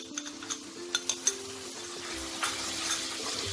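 Onions frying in oil with ginger-garlic paste for Bengali Golbari-style mutton kosha. A soft, steady sizzle runs beneath a few quick metallic clinks of a spoon against the pan, fairly quiet and close.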